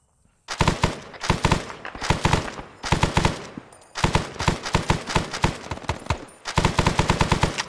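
Machine gun in the Arma 3 video game firing long, loud, rapid bursts with short pauses between them, close and dominant, with no voices over the shooting.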